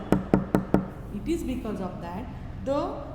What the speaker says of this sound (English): when I bang on this table